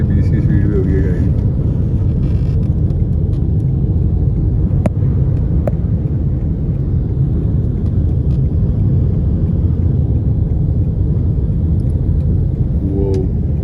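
Strong wind roaring against a car slowed sharply on a road during a sandstorm in Rangpur, a steady loud low rumble and buffeting throughout, with speech at moments.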